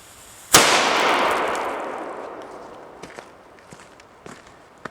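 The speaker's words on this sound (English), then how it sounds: "That was an almighty bang" M10 airsoft ball grenade going off outdoors: a single sharp, loud bang that rings out and decays slowly over a couple of seconds, followed by a few faint scattered clicks and rustles.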